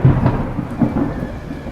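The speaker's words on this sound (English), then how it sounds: "a storm is blowing in" A thunderstorm with rain as a storm blows in at sea, deep rumbling thunder rolling under a steady wash of rainfall, loud and close with no voices.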